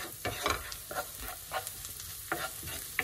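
Spices and turmeric are stirred in a hot frying pan, with a crackling sizzle punctuated by repeated scraping strokes of the utensil at an uneven, quick rhythm, close and moderately loud.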